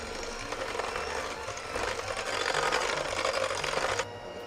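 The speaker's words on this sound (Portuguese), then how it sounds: "Com a velocidade baixa da batedeira, agora sim chegou a hora de adicionar o trigo." An electric stand mixer runs at low speed, beating batter for a paçoca cake, a steady whirring buzz with a faint clatter that swells slightly midway, then drops off near the end; no voices over it.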